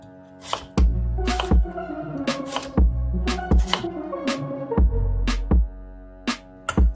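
A knife chops peeled radish into cubes on a cutting board, about a dozen sharp, close knocks in an uneven rhythm with short pauses between strokes, no voices.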